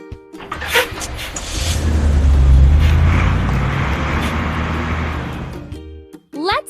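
A drop side truck's engine swells in a loud, sustained rev that builds, holds and fades over several seconds, with short musical or effect sounds at the start and end.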